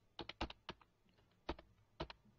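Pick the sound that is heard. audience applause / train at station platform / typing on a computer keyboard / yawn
typing on a computer keyboard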